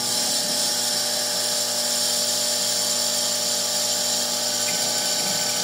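CNC spindle at 32,000 RPM with a 6 mm per second feed, cutting 0.2 mm deep into a 20 mm triangle pendant, a steady high-pitched whine with a constant hum beneath, continuous and close.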